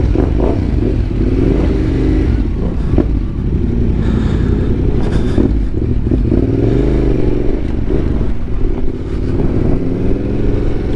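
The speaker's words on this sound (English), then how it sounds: "Black Widow exhaust is sounding so good." A Yamaha Tenere 700 adventure motorcycle with a Black Widow exhaust is ridden on the road. The engine drones continuously and its pitch rises and falls with throttle changes, with occasional clatter and wind noise.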